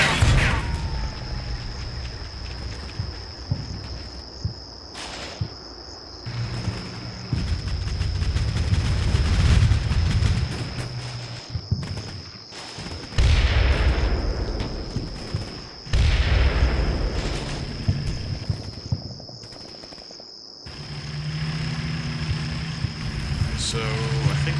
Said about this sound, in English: Pretty heavy fire from over there.